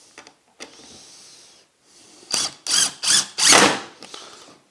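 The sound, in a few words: TID18 impact driver in T mode driving screws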